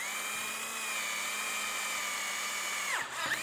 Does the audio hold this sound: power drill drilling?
yes